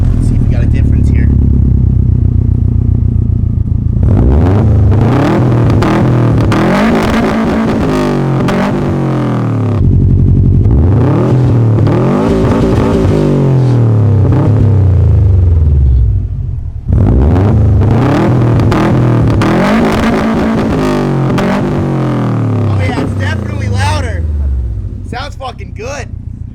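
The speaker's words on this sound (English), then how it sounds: "We just pulled this car out, let it warm up and everything, so we can rev it for you guys." A freshly painted Jeep's engine revving hard in three long surges, each climbing and falling back, loud and close with a rough rumbling exhaust and faint clatter.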